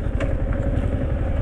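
A motorcycle engine idling and rumbling nearby while two bikes are parked near a wildlife area, a loud, steady low throb for a moment.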